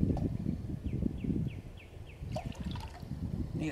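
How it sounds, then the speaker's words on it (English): Water trickles and pours steadily into a metal canteen cup outdoors, a continuous close splashing dribble with a few faint clinks, heard alone without talk. "I'm gonna boil some water."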